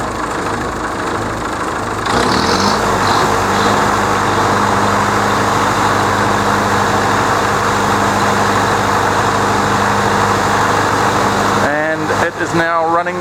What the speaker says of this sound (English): So it's idling now just to make itself happy, and then it'll rev up and plug itself in